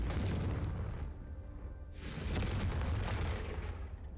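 Confringo blasting curse explosions in the Hogwarts Legacy video game, a loud sustained boom followed by a second heavy blast with long rumbling debris, close and dense with no talking.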